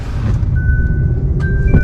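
A car emits steady electronic beeping tones, two sustained pitched beeps over a continuous low engine or road rumble, fairly close and loud.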